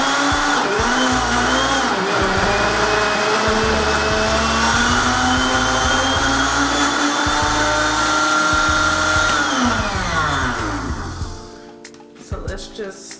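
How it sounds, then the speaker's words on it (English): A blender whirs steadily while mixing an avocado hair mask, its motor pitch shifting with pulses before spinning down near the end. "so let's blend it one more time"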